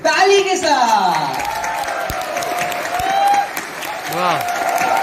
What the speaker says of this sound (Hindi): ताली के साथ।